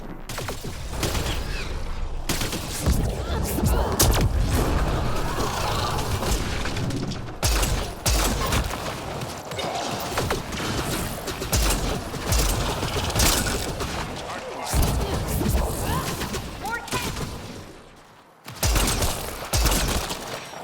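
A firefight in Mass Effect Andromeda, with dense, rapid gunshots and booming impacts crackling almost continuously at loud, close range and pausing only briefly near the end.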